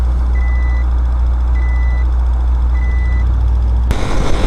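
Three evenly spaced electronic beeps of a vehicle proximity warning, set off by a car close behind, sound over a loud, steady engine rumble while riding a Vitacci scooter, then a sudden burst of noise near the end.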